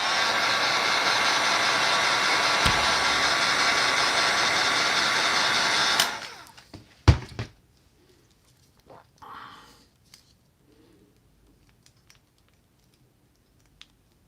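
A heat tool reheats a part of an action figure during customizing, giving a steady loud blowing hiss for about six seconds before it switches off, followed by a few close clicks and handling knocks in near silence.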